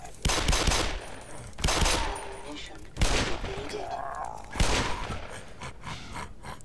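Gunfire bursts from a first-person shooter game, Black Mesa on hard difficulty, with four loud broadband blasts spaced about 1.5 seconds apart over a continuous noisy game background, and a voice talking in between.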